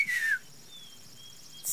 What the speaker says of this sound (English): Can you whistle? Like this?